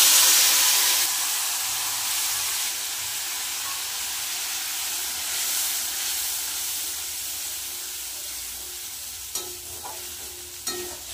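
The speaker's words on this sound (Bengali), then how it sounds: "আদা বাটা, জিরে বাটা, কাঁচা লঙ্কা বাটা আর টমেটো বাটা দিয়ে আমি এটা ভালো করে কষিয়ে নেব তেলের মধ্যে দিয়ে" Spice paste of ground ginger, cumin, green chilli and tomato fries in oil, giving a steady close sizzle and hiss as it is stirred, with a couple of brief clinks of the spoon near the end.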